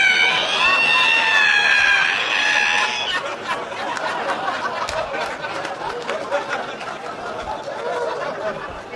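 A voice imitates a squeaking ironing board being opened, a high, wavering screech lasting about three seconds, followed by crowd laughter and chatter.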